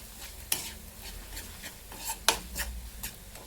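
A spoon stirs and taps in a pan as turmeric, garam masala, coriander powder and hing are sautéed for stuffed chili fry, giving soft sizzling under a few sharp clinks and scrapes, close and fairly quiet, with no talking.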